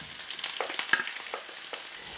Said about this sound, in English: my garlic and chili has been sizzling for a good minute